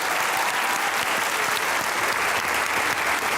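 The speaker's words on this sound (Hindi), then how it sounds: "भरपूर तालियों में सैयद सलमान गिलानी।" A studio audience at a comedy talk show applauds to welcome a poet, a dense, steady wash of clapping that fills the whole stretch at even loudness.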